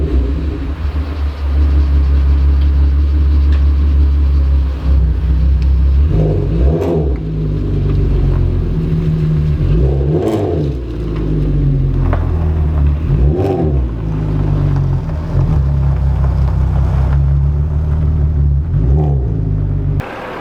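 A Volkswagen MK6 GLI being driven on the road, its engine droning in a steady loud rumble with several rising and falling revs as it shifts through gears, no voices.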